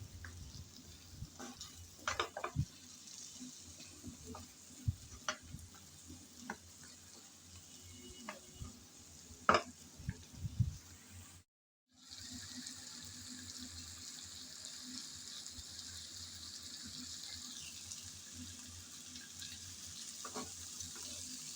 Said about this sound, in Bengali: ভালোভাবে একটু নেড়ে চেড়ে কষিয়ে নেব বলে